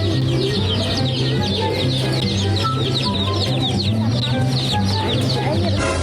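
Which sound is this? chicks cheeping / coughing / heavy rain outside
chicks cheeping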